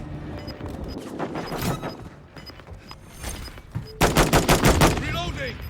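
Call of Duty MW3 team deathmatch on the Terminal map: scattered gunshots, then dense bursts of automatic fire up close, with in-game voice callouts underneath.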